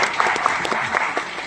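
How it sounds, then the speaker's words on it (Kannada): Audience applause at a motivational talk with a noted comedian and actor, a dense steady patter of many hands clapping throughout with a few sharper claps standing out, loud and close. "ಹೊಡಿರಿ ಮತ್ತೆ ಚಪ್ಪಾಳೆ"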